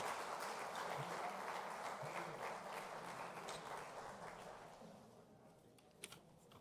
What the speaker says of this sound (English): Ladies and gentlemen, very warm round of applause to our distinguished speaker.